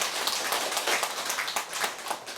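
A church congregation applauds during a Sunday service, the clapping steady and dense across the whole moment, filling the room with a continuous patter that rises and dips slightly without pausing.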